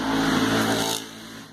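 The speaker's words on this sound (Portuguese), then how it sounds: "A moto passou" A motorcycle passes by outside, its engine a steady droning roar that holds briefly and then drops away abruptly as it moves off.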